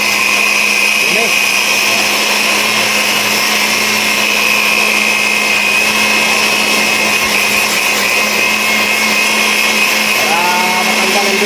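Compressed air blasting dirt from a car's cabin filter during an oil change, a loud steady hiss with a constant hum underneath, running nonstop for several seconds.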